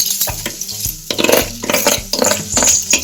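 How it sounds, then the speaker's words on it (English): Drained basmati rice sautés in ghee in a pan with bursts of crackling sizzle and scraping stirs against the metal, several distinct pushes of the spoon over a few seconds, close and fairly loud. "Just saute it for 2 minutes."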